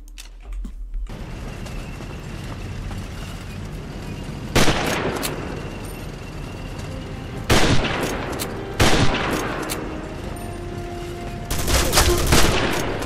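Gunfire from the Commandos: Strike Force video game: sharp, loud bursts of machine gun and rifle shots erupt at intervals over a steady background rumble of game ambience.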